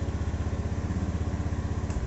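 A Honda Beat Street motorcycle engine runs steadily after being started, a close, even putter with a fast regular pulse and light mechanical clatter, no voices.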